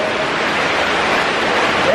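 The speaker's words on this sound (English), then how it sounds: "There's a lot of water here." Water rushes through a tunnel during a rainstorm, a dense, steady broadband roar like rapids that stays loud and constant from start to finish.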